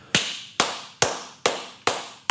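A person claps their hands slowly and steadily, five sharp, close claps evenly spaced about half a second apart, with no talking.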